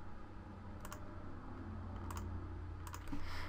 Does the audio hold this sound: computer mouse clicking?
yes